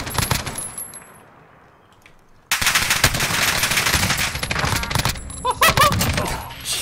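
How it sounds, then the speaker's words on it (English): LMG machine gun in a video game, heard as a sudden loud burst of rapid sustained automatic fire after a quieter stretch, with dense rattling shots and metallic clinks over it. "this is the best LMG ever."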